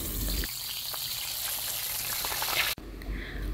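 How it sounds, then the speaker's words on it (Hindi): Fish pieces frying in hot oil for a restaurant-style fish karahi, a steady close hiss and crackle of sizzling that cuts off abruptly near the end, leaving a quieter background. "ऑयल गर्म हो चुका है और हमने अपनी सारी मछली इसके अंदर ऐड कर दी है और इसको अच्छी तरह से भूनेंगे"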